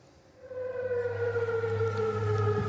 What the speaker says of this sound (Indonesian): Sirine meraung di kota aman saat angkatan bersenjata Yordania mencegat serangan rudal Iran.